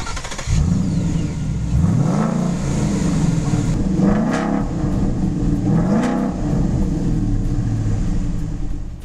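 A car engine revs repeatedly, its pitch rising and falling in several loud surges over a steady rumbling idle.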